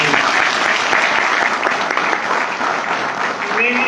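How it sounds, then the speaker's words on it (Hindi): Loud, dense applause fills a large indoor gathering at a health seminar in Indore, a continuous roar of many hands clapping close by with voices mixed in. "एक बार चाहूंगा जोरदार तालियां"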